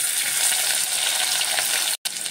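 Onions hiss and crackle in hot oil with a bay leaf in a pan for soya chunk kurma, a steady loud sizzle with a momentary dropout near the end, no voices.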